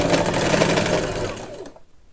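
A sewing machine runs fast and loud, stitching a seam on a dress sleeve, then abruptly stops near the end.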